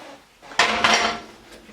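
Chopped aromatics tumble from a bowl into a crock pot of bison meat, giving a brief clattering scrape of dish against pot, loud for about a second, then fading.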